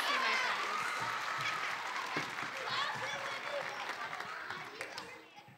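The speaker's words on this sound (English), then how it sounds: "Let's give them a hand, my friends." An audience applauds after a school production of The Jungle Book, loud steady clapping at the start that gradually thins and fades, with voices mixed in.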